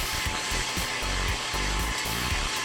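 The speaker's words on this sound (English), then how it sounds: "you can actually see the printer laying down this white ink" A DTG printer lays down a white ink underbase on a shirt, giving a steady whirring hiss broken by rhythmic mechanical clicks and knocks as the print head moves back and forth.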